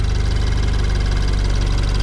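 BMW Z4 E89 with N20 engine idling after a new timing chain, exhaust not connected properly: a steady, close, loud idle rumble with a slightly rough, shaky pulse, no talk.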